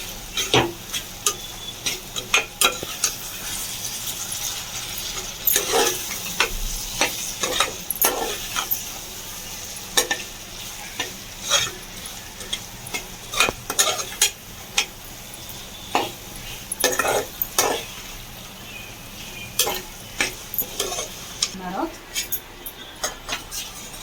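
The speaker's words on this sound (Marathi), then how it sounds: "यामध्ये आपण मस्त याला मिक्स करून घेऊया" Veg biryani being stirred and mixed in a pressure cooker: irregular scraping and sharp metallic clinks of a spoon against the pot, close and fairly loud, with quieter stretches between strokes.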